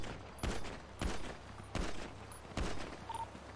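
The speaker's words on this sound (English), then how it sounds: "I'm opening fire." Gunshots in the survival game RUST fire in four separate bursts at a steady pace, each a sharp broadband crack with a short tail, moderately loud over a low background hum.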